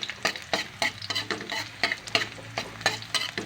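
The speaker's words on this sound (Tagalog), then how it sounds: "ang bango ng ginisang sibuyas at bawang at luya guys" Chopped onion, garlic and ginger sauté in a hot pan, with a spoon stirring in regular scraping strokes over a soft continuous sizzle.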